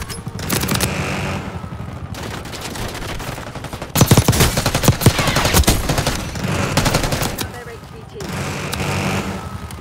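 Automatic gunfire in the Call of Duty Black Ops 6 video game, dense rapid bursts of shots that swell louder midway, with game sounds and voices mixed underneath.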